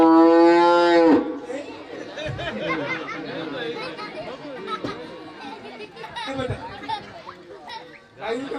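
Cattle lowing at a village gathering: one long, loud, close moo opens, followed by lively chatter from adults and children with faint mooing beneath.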